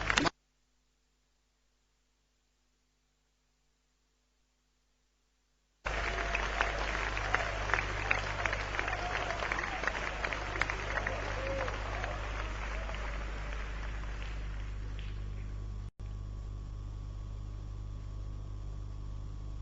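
Audience at a global investors summit in Indore, Madhya Pradesh, applauds to welcome the Prime Minister. Near silence comes first, then a steady burst of clapping runs for about ten seconds before dropping away into a low hum.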